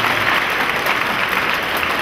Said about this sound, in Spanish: ese aplauso para ustedes